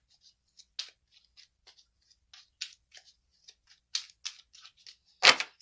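Tarot cards being shuffled by hand, a series of crisp, close riffling and tapping bursts at an irregular rhythm, ending in a louder flurry.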